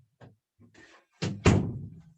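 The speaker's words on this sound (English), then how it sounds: "let me close the door here" An office or home door swings shut with a solid thunk, followed by a louder slam-like thud that decays briefly; faint movement sounds precede it, with no talk during the closing.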